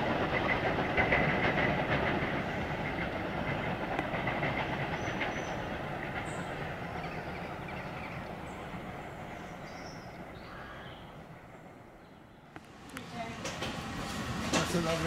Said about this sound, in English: Train at speed